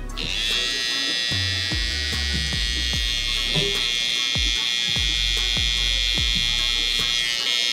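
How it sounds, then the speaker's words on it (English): A hair trimmer hums steadily and loudly up close while cutting a taper at the back of the head, with a constant high buzzing tone and faint rhythmic ticks as the blade passes through hair. "I'm gonna come in with my trimmer first and establish my bald line right below the bottom of the ear"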